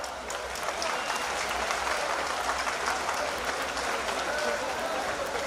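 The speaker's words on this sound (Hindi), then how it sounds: "आप सब तालियों के पुष्पों से स्वागत करें।" A large crowd at a Diwali fair opened by a chief minister in Lucknow claps continuously, a dense even wash of applause that holds steady throughout.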